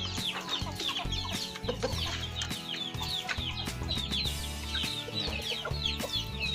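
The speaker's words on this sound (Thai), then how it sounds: "นี่จะเป็นแม่ไก่ของเราแล้วก็นี่เป็น" Hens cluck busily and repeatedly close by, a dense chorus of short calls over low rumbling background noise.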